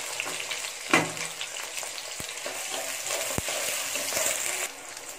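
Carrots and beans fry in a pan for egg fried rice, a dense close sizzle with stirring scrapes and a few sharp utensil taps, steady throughout before easing slightly at the end.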